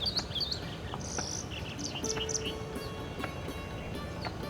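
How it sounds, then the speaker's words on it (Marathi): A large pied wagtail at a waterside gives a few sweet, high whistled chirps, spaced through a steady hiss of background insect and ambient noise, with no voices. "आता आपण जी सुंदर शीळ ऐकली ती होती थोरला धोबी या पक्ष्याची"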